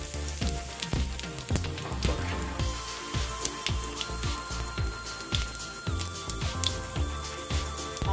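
Cumin seeds sizzle in hot oil for jeera aloo, a steady crackling fry, loud and close, under a regular rhythmic beat.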